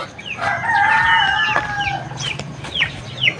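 Chickens near a coop, with one bird's crow-like call up close followed by short rising clucks and squawks, loud and nearby over a low background hum, with no talking.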